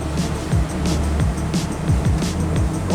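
A superRib 30 Open maxi RIB runs at full throttle with trim up on rough sea, its engines roaring steadily while the hull slaps and splashes through waves in repeated thumps, with no talk.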